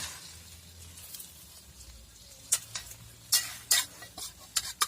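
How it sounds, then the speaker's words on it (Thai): An omelette with cassia flowers fries in a pan under a soft, steady sizzle, then sharper utensil scrapes and clinks land louder toward the end, with no talking. "ทอดไข่"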